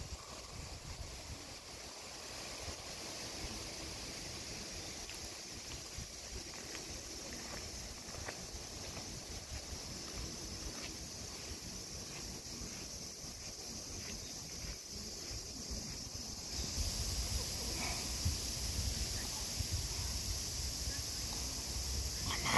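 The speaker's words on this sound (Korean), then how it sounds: "바람이 시원하게 붑니다." Wind blows steadily through a mountain setting with squirrels nearby, a soft continuous rushing that swells louder toward the end.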